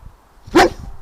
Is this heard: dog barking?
yes